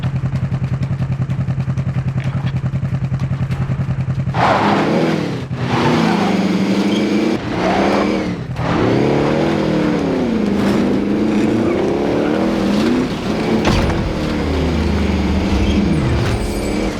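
Car engine revving and shifting while driving in Call of Duty: Modern Warfare, a loud continuous motor drone that rises and falls in pitch with clatter and game effects, no voices.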